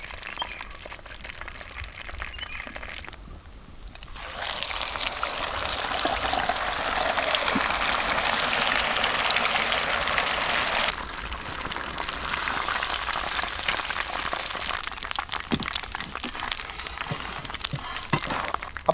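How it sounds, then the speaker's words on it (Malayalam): A whole chicken deep-fries in a pan of hot oil, giving a steady dense sizzle that swells loudly for several seconds and then settles to a softer, crackling bubble, with no speech over it. "അപ്പോൾ നമ്മുടെ അടുത്ത ചിക്കനും നല്ല സുന്ദരനായിട്ട് മൊരിഞ്ഞ് വന്നിട്ടുണ്ട്"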